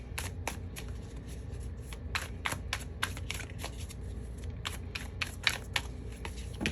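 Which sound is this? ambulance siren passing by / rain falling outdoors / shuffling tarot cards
shuffling tarot cards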